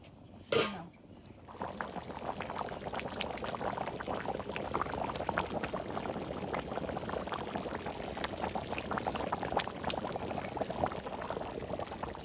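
Potatoes go into a pot of boiling water already holding meat: a short splash near the start, then steady, close bubbling of the rolling boil for the rest.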